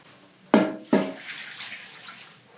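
Water poured into a pot of greens with ham hocks for wilting: two sharp splashing gushes in quick succession, followed by a softer fading trickle and rumble, close and fairly loud, with no voices.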